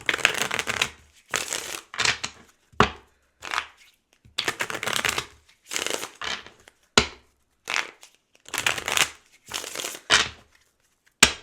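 Tarot cards shuffled by hand in a long series of crisp riffling bursts separated by short pauses, close and fairly loud, with no talking.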